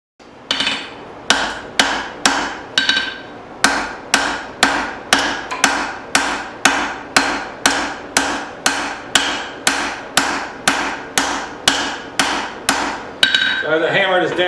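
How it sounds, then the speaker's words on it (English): Steady, evenly paced hammer blows on hot metal while forging a tomahawk, about two per second, ringing sharply and close, continuing for the whole stretch. "As I hammer this down,"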